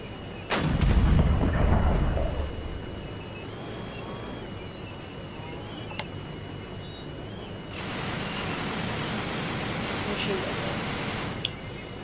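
A tank's main gun fires in the Minecraft MCHeli mod: one loud, booming blast that rumbles off over a couple of seconds. A steady engine-like drone follows, then a brighter hissing layer comes in near the end.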